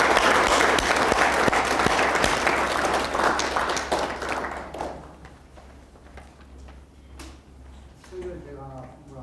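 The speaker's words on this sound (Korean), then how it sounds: "다시 한번 박수 부탁합니다." An audience claps loudly at a company New Year opening ceremony, the applause dense at first and then thinning out into scattered claps and faint voices.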